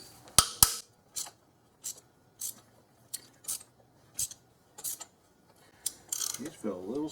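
Bolts being loosened from the lower intake manifold of a 2001 Infiniti QX4 with about 150,000 miles give a series of short, sharp ratchet clicks and metallic snaps in irregular bursts, close by, with faint handling noise between them.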